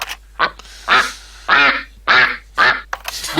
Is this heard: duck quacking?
yes